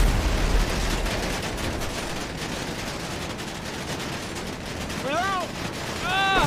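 Gunfire in a video game comes as dense rapid bursts of shots under an ongoing noisy mix, with a rising whistle-like tone near the end; players speak over it.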